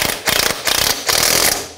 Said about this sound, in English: So 19 millimeter socket, and I'm just using a 3/8 drive to snug it up.